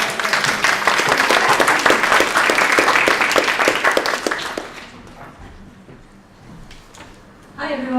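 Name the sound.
audience clapping to welcome Emma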